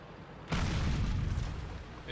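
A tank gun fires once with a heavy, sustained boom in World of Tanks, as the German heavy tank VK 45.02 (P) Ausf. B takes a hit, followed by a lingering rumble. Talk can be heard faintly.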